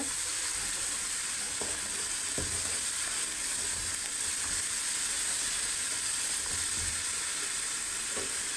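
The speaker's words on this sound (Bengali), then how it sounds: "তারপর আমি দুই চামচ ধনিয়ার গুঁড়া দেব এটাকে ভালোভাবে কষিয়ে দেব" Mutton sautéing in a pan with coriander powder for Kashmiri mutton rogan, giving a steady, close sizzling hiss with occasional stirring scrapes and no talk.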